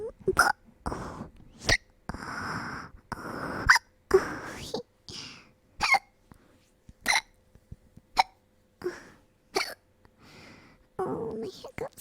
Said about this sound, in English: Oh, my hiccups.